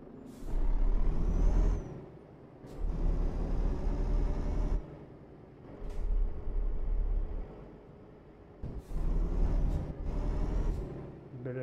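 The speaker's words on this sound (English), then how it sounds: "Bit of engine braking there." Volvo FH12 truck engine braking in Euro Truck Simulator 2, heavy bursts of engine and air-brake hiss coming in repeated surges separated by short gaps, loud and close with no talk.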